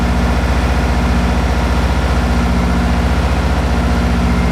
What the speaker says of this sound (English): now we have an idling car